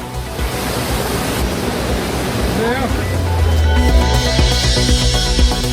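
Hogenakkal waterfall in Dharmapuri district during high water inflow, a loud, continuous roaring rush of falling water, with a voice and tonal sounds joining in the second half.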